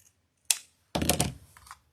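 Scissors snipping a dovetail notch into the end of a ribbon for a dog paw print yarn wreath: one sharp close snip, then a longer slicing cut, quiet and alone without talk.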